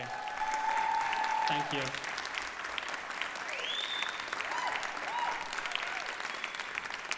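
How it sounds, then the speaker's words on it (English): A crowd applauds a performance steadily throughout, loud and sustained, at an awards ceremony, while a brief tone and a few voices ring out over the clapping. "One more round of applause for that amazing performance, by the way."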